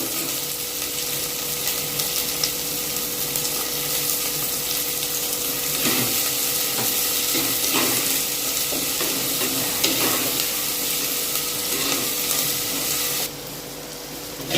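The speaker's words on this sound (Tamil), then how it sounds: "வெங்காயம் நல்லா வதங்கணும்." Onions sautéing in a pan, a steady dense sizzle with occasional stirring scrapes, close and continuous, dropping slightly near the end.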